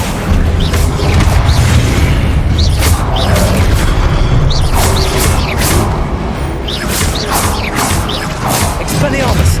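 Accio summoning spell cast mid-duel in the video game Hogwarts Legacy, amid a dense run of booming blasts, whooshes and crashing hits that come every second or so, loud and close, with faint voices mixed in.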